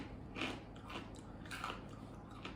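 Someone chewing crunchy rye chips with a mild garlic flavor, several close crisp bites and crunches in an uneven rhythm, with no talk.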